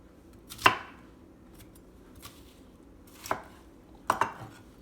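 A knife chops onion on a board for ember-roasted salsa: three sharp, separate strikes, the last a quick double, clear and close against a quiet room.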